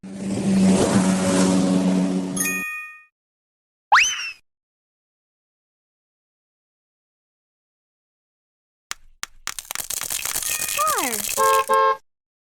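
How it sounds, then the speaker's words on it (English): A car sound effect, a loud engine rev with a horn-like toot, fills the opening seconds, followed later by a busy burst of mixed cartoon noises, with a short chime between. "Car."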